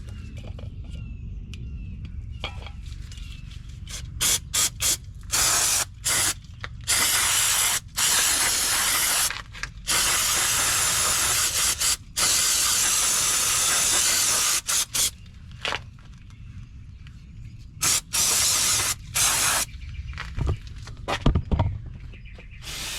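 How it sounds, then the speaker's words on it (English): Brake cleaner sprayed onto Toyota Sequoia brakes in repeated loud, close hissing bursts, some long and some short, separated by brief pauses. "go ahead and just clean some of this stuff up with some brake cleaner"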